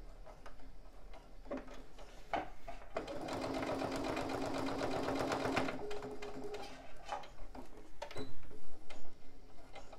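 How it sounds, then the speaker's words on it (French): Sewing machine topstitching fabric 1–2 mm from the edges of a patchwork pouch, a close, steady mechanical whirr running several seconds in the middle, framed by short stops and start-stop bursts. "je vais faire une surpiqûre directement"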